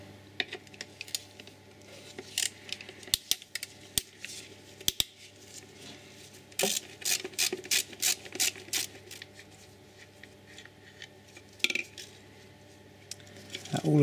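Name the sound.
removing size 10 bolts on an Audi RS6 V8 engine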